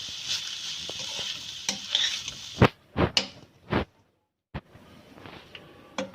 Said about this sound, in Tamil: இப்போ சாதம் ஆட் பண்ணிக்கலாம். இப்போ நல்லா மிக்ஸ் பண்ணிக்கோங்க.